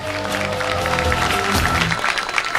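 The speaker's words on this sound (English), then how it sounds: "Please, a big round of applause for Chad Thornsberry." A comedy club audience applauds steadily, a dense wash of many clapping hands with some crowd noise that holds at an even level throughout.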